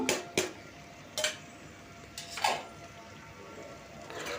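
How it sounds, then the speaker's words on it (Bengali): Raw jackfruit and potato being stirred in a cooking pan, with a few sharp scrapes and clinks of the utensil against the pan at irregular intervals over quiet background noise. "সুন্দরভাবে নেড়ে নেড়ে এটাকে আমি মিশিয়ে নেব"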